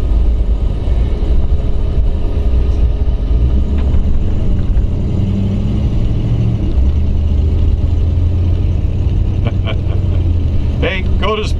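A 1956 Cadillac Sedan DeVille drives around the block, its engine giving a steady low rumble from inside the car that runs unbroken throughout, with a few light clicks near the end.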